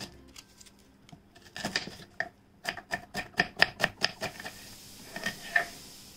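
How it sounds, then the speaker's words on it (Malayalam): Onions slice under a kitchen knife on a cutting board, a run of crisp, evenly spaced chops that speeds into a steady rhythm, close and moderately loud with no voices. "ഞാനിവിടെ സവാള എടുത്തിട്ടുണ്ട്, ഇതൊന്ന് സ്ലൈസ് ചെയ്തെടുക്കണം."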